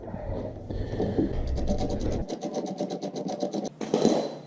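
A socket turned by hand on a bolt of a Harley rear brake caliper makes rapid ratcheting clicks and metallic rubbing, close up and moderately loud throughout.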